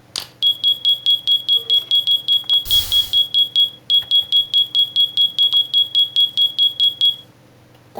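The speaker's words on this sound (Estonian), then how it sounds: "Ma näitan, mis suitsuandur teeb siin." A smoke detector in a Minecraft mod game sounds a loud, steady run of rapid high electronic beeps, briefly broken by a burst of noise midway, then continuing before stopping near the end.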